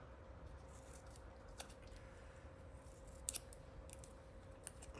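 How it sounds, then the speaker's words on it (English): Scissors snip small score lines into a green paper circle for a handmade shabby-style flower, a few faint close snips over a quiet background with no talk. "I also cut little score lines in the green circle"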